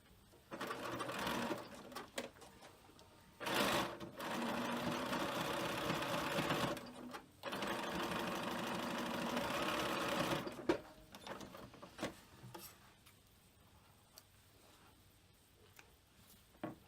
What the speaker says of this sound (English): So again, just zigzag across all the way.